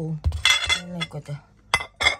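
Recycled plates clink against each other as they are handled: several sharp, bright knocks scattered among a person's talking.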